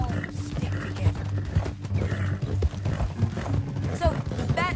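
In Red Dead Redemption II, horses walk in a group, their hooves clip-clopping in a steady rhythm up close, with faint creaking tack and a brief whinny toward the end.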